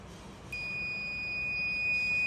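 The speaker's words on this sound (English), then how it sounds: "we want to make sure the buzzer have a sound" A multimeter continuity buzzer gives a steady high-pitched electronic beep as the probe tips touch, starting abruptly and holding continuously, with faint background noise and no talk.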